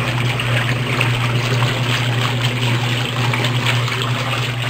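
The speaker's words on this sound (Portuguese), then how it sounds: "Vou desligar a torneira aqui" Tap water runs steadily into a sink during dishwashing, a continuous close trickle and splash with a low hum underneath, with no talk.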